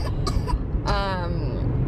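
Someone coughs close by in a few short, harsh bursts over a steady background hum.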